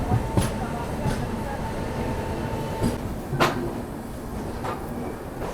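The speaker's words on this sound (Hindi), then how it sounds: "चलो धीमे धीमे स्पीड में अभी हम लोग स्किप कर रहे हैं कामाख्या रेलवे स्टेशन।" Poorvottar Sampark Kranti passenger train rolling slowly through Kamakhya railway station, a steady low rumble of wheels and carriages with occasional sharp clanks and clicks, close and continuous, with faint voices at times.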